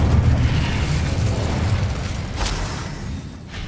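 Incendio fire spell in Hogwarts Legacy erupts in a steady, roaring whoosh of flame with a low rumbling body, holding loud throughout with a brief sharp crackle near the end.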